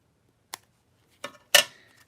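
Scissors trim the edge of paper for a card, giving three quick, crisp snips close by in an otherwise quiet room.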